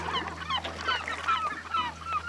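A colony of about fifty aggravated seagulls on a small island calls repeatedly, overlapping harsh cries at moderate distance over a low steady background hum.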